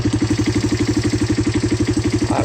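A Yamaha 200 idles while warming up, its even, rapid chugging pulses loud and near with no pauses, the engine running steadily and alone.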